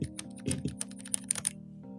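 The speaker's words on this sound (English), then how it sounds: "No, this one's definitely clicky." Rapid, crisp keystrokes on a clicky custom mechanical keyboard, close and fairly loud, with a short burst of typing and no voices.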